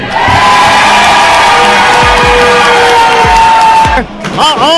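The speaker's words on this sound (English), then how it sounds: "This crowd is electrifying right now." A wrestling arena crowd roars loudly and continuously, cheering and whooping, then breaks into scattered shouts and whistles near the end.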